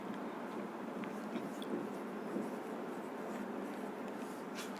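Pen nib scratching across paper in light, steady shorthand strokes, a soft continuous scribble with faint brief taps, close and quiet, no voices.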